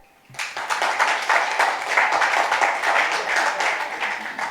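An audience at a football media launch breaks into sustained applause, dense overlapping clapping that starts abruptly and holds at an even, fairly loud level throughout.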